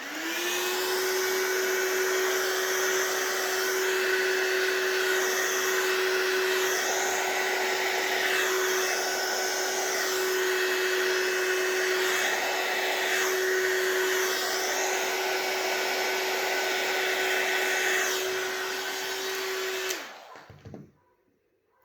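A heat tool blows hot air over alcohol ink and blending solution on Yupo paper, a loud steady whirring roar with a constant whine that runs unbroken for about twenty seconds, then cuts off abruptly.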